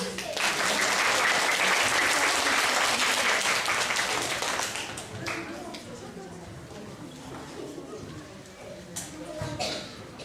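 An audience at a children's school song festival claps loudly and steadily for about five seconds. The applause then fades into scattered claps and murmur, with a voice speaking over it.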